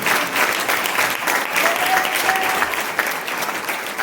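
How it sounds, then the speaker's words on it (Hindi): A church congregation at a Hindi Sunday sermon claps loudly and continuously, a dense, even roar of many hands filling the room for several seconds. "जोरदार ताली बजाओ प्रभु के लिए"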